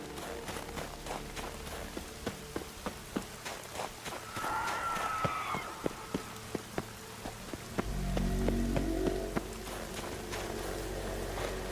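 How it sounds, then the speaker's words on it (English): Steady rainfall in The Witcher 3: Wild Hunt patters across the scene with scattered sharp drips and footstep-like taps, plus a brief rising hiss midway and a low rumble toward the end. "Looks like rain."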